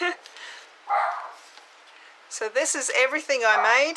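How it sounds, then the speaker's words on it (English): A small dog barks and yips several times in quick succession, close by, after a person speaks briefly. "That's my dog."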